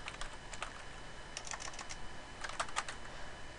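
Keystrokes on a computer keyboard while information is entered into a restaurant point-of-sale terminal: quick irregular clicks in bursts, close and clear, with no talking.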